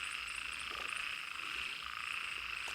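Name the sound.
frogs croaking in forest at night after rain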